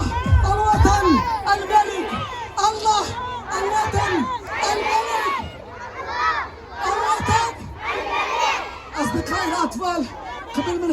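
A crowd of Moroccans, many of them children, chants loudly and rhythmically at Al Amal square in Agadir during Green March anniversary celebrations, with repeated shouted phrases rising and falling in close, energetic bursts.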